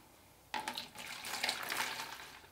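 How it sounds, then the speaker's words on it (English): A tap suddenly opens and water gushes into a glass jar for a quicksand mouse trap kit, a close, steady rushing fill that rises slightly as the jar fills. "Take off the lid and fill it with water."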